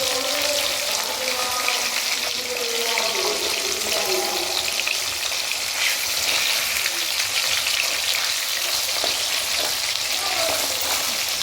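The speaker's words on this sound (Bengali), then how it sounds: "মাছগুলো ভালো করে কুচো করে ভেজে নেবো" Pieces of fish frying in hot oil, a continuous dense sizzle and crackle holding steady throughout, close and fairly loud with no voices.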